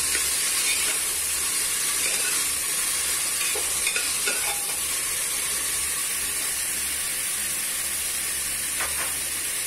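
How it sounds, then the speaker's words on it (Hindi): Peas, potatoes and mixed vegetables fry in oil inside a pressure cooker, a loud continuous sizzle with occasional stirring scrapes and no voices. "मटर, आलू, सारी सब्जियां एक साथ डाल दें और फिर उनको अच्छे से थोड़ी देर भूनें।"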